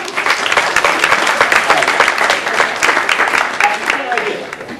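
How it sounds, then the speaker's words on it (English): Loud, sustained clapping from a college audience as a woman is brought up on stage, a thick even wash of applause with scattered louder claps throughout. "Round of applause for her."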